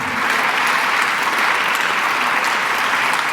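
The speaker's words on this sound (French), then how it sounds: "On peut applaudir, effectivement, bravo." An audience at a film screening about hospital emergency care claps in a dense, sustained round of applause that stays even and loud from start to finish.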